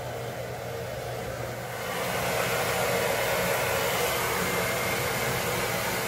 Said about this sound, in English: I need that comb for my blow dryer.